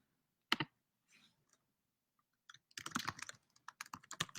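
Keys clatter on a computer keyboard in a quiet room, a lone tap and a few faint clicks giving way to a quick, dense burst of steady typing.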